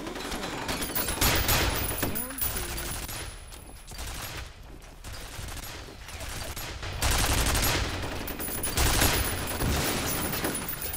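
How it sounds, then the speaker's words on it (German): Bursts of rapid gunfire in F.E.A.R. come in waves over several seconds, with someone talking and muffled effects in between. "Ein paar gezielte Schüsse reichen aus."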